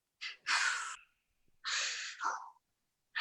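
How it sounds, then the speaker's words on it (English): An improv actor performs labored breathing: loud, raspy, gasping breaths in uneven bursts, a pair of harsh inhales and exhales, a pause, then another strained heave, close and alone. "I guess I'm just going to have to do my labored breathing"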